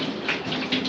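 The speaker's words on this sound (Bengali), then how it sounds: "খুব জোর বৃষ্টি নেমে গেছে" Heavy rain falling steadily as a dense, even wash of hiss with slight swells in intensity, close and continuous with no talk over it.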